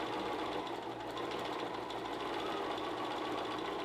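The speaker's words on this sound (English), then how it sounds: "now I'm going to go and sew my 1/4 inch." A sewing machine stitches a quarter-inch quilt piecing seam, giving a fast, even mechanical whir with rapid needle chatter, continuous and fairly close, with no voices over it.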